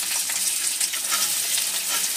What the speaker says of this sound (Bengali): এখানটা তেলের মধ্যে আমি এখানে পেঁয়াজ দিয়ে দেবো।